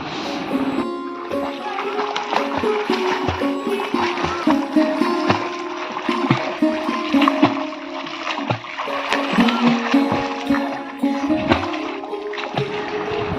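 A boy swimming and splashing in water, with continuous sloshing and irregular splashes at close range, some voices faintly mixed in.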